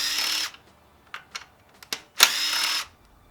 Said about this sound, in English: we're going to get the top bolt on the intercooler undone. That's another 12mm socket